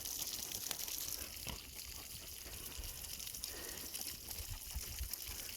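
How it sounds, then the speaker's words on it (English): Water hisses steadily from a running hose, a constant broad spray with faint thumps underneath, no talking. "Water hoses."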